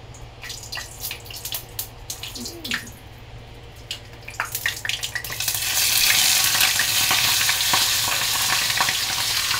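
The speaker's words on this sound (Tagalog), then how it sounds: "Prutuhin natin yung gurami." A large creek-caught gourami fish fries in a pan, with clinks and scrapes at first, then a loud, steady, crackling sizzle that swells and holds for the final few seconds, close and without talk.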